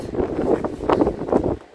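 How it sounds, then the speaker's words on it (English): Low, rumbling wind at Mount Jerome buffets the microphone in steady gusts, swelling and fading over a couple of seconds with no voices. "Try and stay out of the wind as much as I can."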